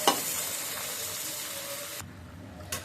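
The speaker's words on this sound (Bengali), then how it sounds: "এবার ডিম ভাজা হয়ে যখন সুন্দর একটা গ্রান বেরিয়েছে, তখন আমি আলুগুলো ছেড়ে দিলাম।" Potatoes frying with eggs in a pan, a loud, close, continuous sizzle that drops off sharply near the end, followed by a quieter, brief crackle.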